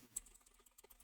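Fingers type on a computer keyboard in a quick, faint run of close key clicks over about a second, with no talking.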